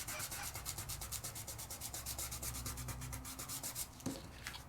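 A burnishing tool rubs metallic flakes onto card in quick, rhythmic back-and-forth strokes, a close, soft, scratchy scraping that repeats evenly.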